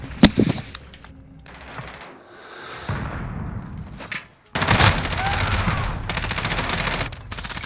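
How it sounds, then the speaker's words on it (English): Rapid automatic gunfire and loud bursts in Call of Duty Modern Warfare multiplayer combat, with a dense, sustained fusillade in the second half and sharp shots at the start, loud and close. "Taking fire."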